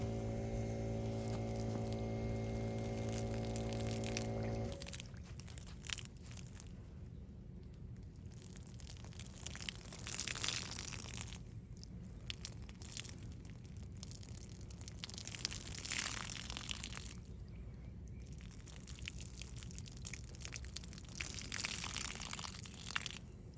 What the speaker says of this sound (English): Might as well wash this dirty old filter off.